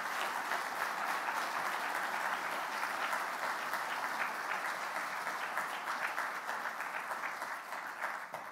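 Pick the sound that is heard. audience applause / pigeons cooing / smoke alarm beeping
audience applause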